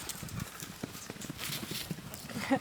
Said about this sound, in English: Excuse my horses, they're running amok.